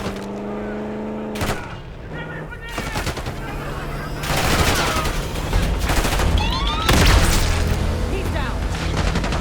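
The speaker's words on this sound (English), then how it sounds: "Open fire!" Gunfire in the video game Call of Duty Black Ops 6: sustained bursts of automatic weapons and heavy shots, loud and close, with explosions and game voices shouting underneath.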